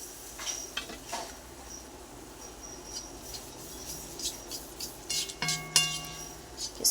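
Batter fries in hot oil in a wok, a soft, steady sizzle broken by scraping and occasional metallic clinks from a utensil against the pan, fairly quiet and close, with no talking.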